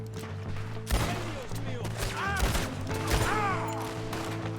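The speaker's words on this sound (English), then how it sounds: "how about you stop shooting me?" Gunfire in the video game Red Dead Redemption 2, a few loud sharp shots over a steady hum of game ambience, with tonal sweeps and whistles mixed in.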